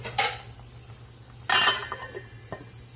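Lid set onto a cooking pot of pork rib sinigang: two loud metallic clanks with a short clatter, a softer clink after, over a faint simmering hum, close by.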